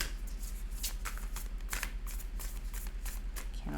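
Tarot cards are shuffled close up in a steady, quiet run of rapid riffling flutters and soft slaps.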